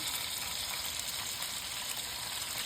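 Rice boils in a pot of water on the stove, giving a soft, continuous bubbling hiss that stays even and fairly faint throughout, with no voices.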